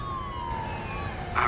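A police siren in the video game Mafia II, a wailing tone sweeping slowly downward over steady background noise, with a sharper blare near the end.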